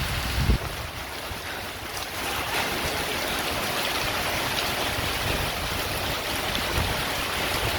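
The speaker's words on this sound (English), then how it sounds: "this is bringing in some more gusty winds" Gusty winds from Tropical Cyclone Fina batter the microphone near Darwin, a dense continuous roar of wind noise mixed with a broad rush like surf, steady and loud throughout.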